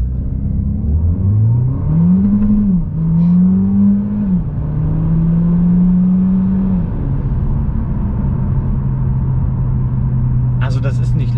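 A 2020 Mercedes-Benz CLA 250e hybrid accelerating hard from a standstill, a loud close engine note that climbs through gear changes and then settles into a steady drone, with faint clicks at the end.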